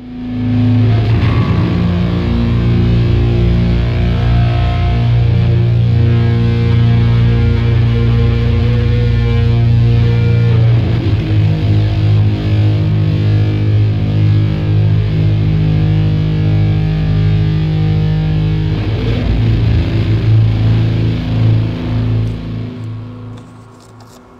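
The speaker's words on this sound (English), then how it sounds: "the distortion and all of the voicings of the amplifiers, they're all really present" A massive, saturated amplifier drone from a record roars continuously and loud, thick low guitar tones and heavy distortion sustaining with slow shifts in pitch before fading at the end.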